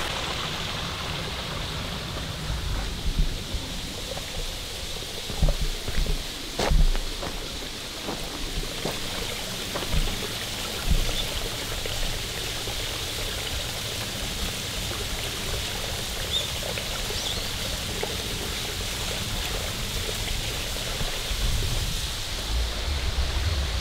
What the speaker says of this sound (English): Here's the stream that's been diverted to create that,